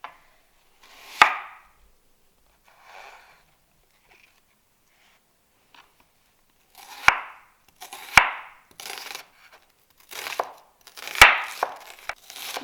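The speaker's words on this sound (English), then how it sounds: "We are going to start by chopping the onions." A knife chops onions on a board in a kitchen, a few sparse crisp chops at first and then a quicker run of sharp thuds, close and alone.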